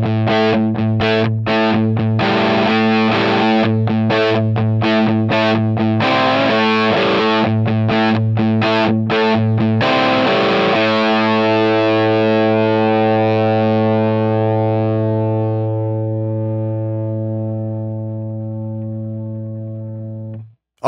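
Distorted electric guitar alternating between a Vigier GV Wood and a Gibson Les Paul, cut together seamlessly, with loud rhythmic chugging chords for about ten seconds, then a final chord left ringing and slowly fading.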